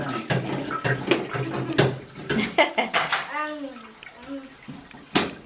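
Water gurgles and splashes as it drains out of a toilet tank while the flush handle is held down, with clattering sounds and people talking close by.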